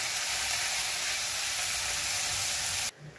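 Meat for hot dogs fries in a hot pan with a loud, dense, steady sizzle for about three seconds, then cuts off abruptly to near quiet.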